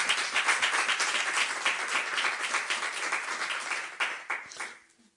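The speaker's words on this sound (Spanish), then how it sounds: "Pues dar un aplauso al Señor, que se lo merece." Applause from a church congregation, dense steady clapping from many hands that carries on for several seconds, then thins out and stops near the end.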